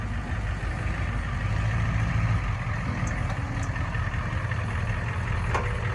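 A 1983 Ford Bronco with a swapped IDI diesel and F-250 front end rumbles at a low, steady idle-like drone while creeping up to a concrete stair climb, moderately distant with faint clicks above the engine.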